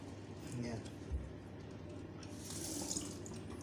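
A tap runs steadily into a sink as brown and black chicken eggs are washed for homemade salted eggs, a constant watery hiss with small splashes, while someone talks over it.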